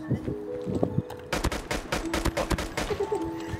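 Rapid bursts of gunfire crackle in quick succession in a Call of Duty Mobile 2v2 match, dense and sharp, after a few scattered shots at the start.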